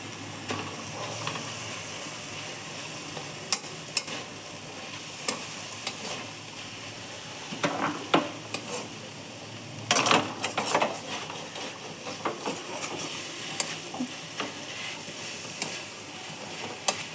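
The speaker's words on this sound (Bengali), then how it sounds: "এখন থেতো করে দেব থেতো না করলে জলটা শুকাবে না" A lata fish mixture being mashed in a frying pan, giving a steady soft sizzle with repeated clicking and scraping of the utensil against the pan, close and continuous.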